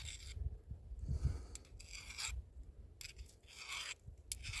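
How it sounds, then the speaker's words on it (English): A steel file rasping against a hard steel edge, catching on a burr in a few short scraping strokes, close and fairly quiet with no talk. "You can hear it catch, right? Hear that burr catch?"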